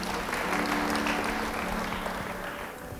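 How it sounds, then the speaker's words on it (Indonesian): Applause from a church congregation during a sermon, a steady, dense wash of many hands clapping together, fairly loud and continuous throughout before easing slightly toward the end. "Yang setuju beri tepuk tangan bagi dia."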